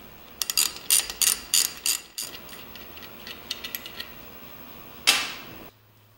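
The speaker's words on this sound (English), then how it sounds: "And we can now ratchet this off." A ratchet backs off a differential drive pinion nut held with a factory tool, a series of sharp clicking bursts in quick rhythm followed by slower, fainter clicks and one final louder clack, close up with no talking.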